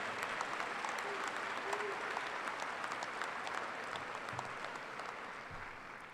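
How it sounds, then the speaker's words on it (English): Sustained applause from a graduation audience at a high school ceremony, steady dense clapping filling the hall throughout with no talk over it. "Let's give them a round of applause for what a great accomplishment that is."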